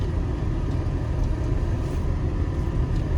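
Car driving on a road on a morning commute, a steady loud low rumble of engine and road noise filling the cabin throughout with no talking.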